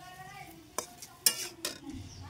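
Pumpkin greens fry with ground spices in a pan, producing a faint soft sizzle punctuated by a few sharp spatula scrapes and clinks against the pan.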